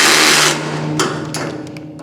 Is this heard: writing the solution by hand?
no